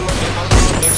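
Burst of gunfire from the Free Fire mobile shooter game, a loud close volley of rapid shots in about a second, with a second heavier blast midway.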